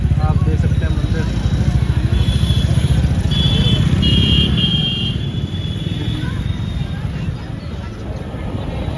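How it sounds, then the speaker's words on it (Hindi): Motorbikes and rickshaws rumble steadily along a narrow Vrindavan street, with a close, throbbing engine drone that slowly fades as they pass, and a voice talking over it. "बस बाइक ही चल रही है या रिक्शा चल रहा है"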